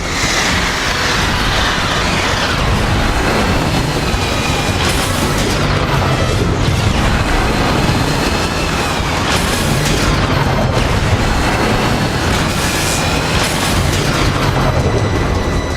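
Missile explosions in the video game Transformers: War for Cybertron form a continuous loud barrage of booms and rumbling blasts, with repeated impacts over a dense roaring bed and no voices.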